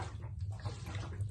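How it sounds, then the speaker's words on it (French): Liquid sloshing inside a large-format 4x5 sheet film developing tank as it is inverted during the first minute of development, a continuous close, low swishing and gurgling with no talking. "La première minute, c'est le retournement de la cuve."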